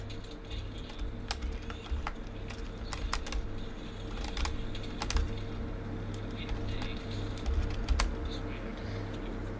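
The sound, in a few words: typing on a computer keyboard while playing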